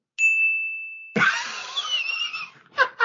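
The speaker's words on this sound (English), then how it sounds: "Give yourself another bell for that delivery." A single bright bell ding rings out sharply and sustains briefly before cutting off, followed by loud excited voices and cheering.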